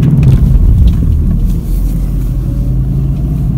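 A car drives over a freshly laid road surface, giving a loud, steady low engine and tyre rumble from inside the vehicle that dips briefly partway through.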